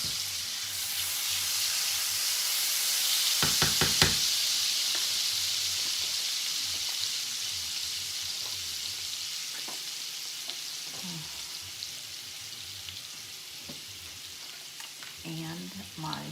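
Butter melts in a hot pan for garlic, giving a steady close sizzle and hiss with a few sharp clicks early on and light scraping later, no talk.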